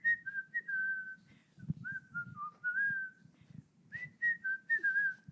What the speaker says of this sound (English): I just pulled out the whistling skills for you guys.